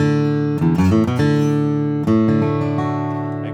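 A bluegrass D run is flatpicked on guitar: a quick, close flurry of single notes that ends on a sustained chord, clear and loud with no talking.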